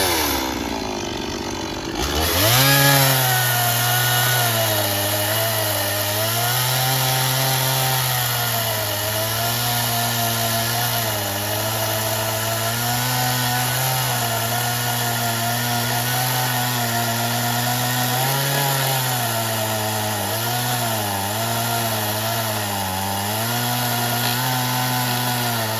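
A Stihl 170 chainsaw starts up and then cuts through hardwood. Its engine drones loudly and steadily up close, and the pitch dips and wavers as the chain bites in and bogs under load.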